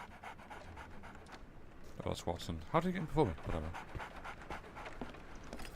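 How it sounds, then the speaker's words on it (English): A dog panting in the video game Sherlock Holmes: The Awakened: quick rhythmic breaths with a brief whimpering burst in the middle, under a voice talking. "There's a dog somewhere."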